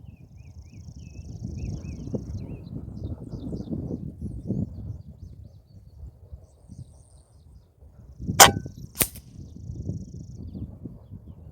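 A Kral Puncher Knight .22 air rifle fires outdoors during long-range group shooting: two sharp, loud cracks about half a second apart, over steady wind rumble and faint distant birdsong.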